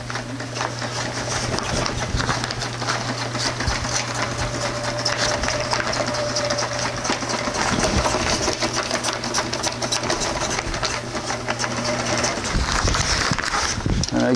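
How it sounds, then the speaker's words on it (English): A sewing machine runs steadily while stitching a tuna cooler fish bag, a continuous close mechanical whir with a low droning hum that holds for most of the stretch before easing near the end. "I'm just going to continue sewing down this end"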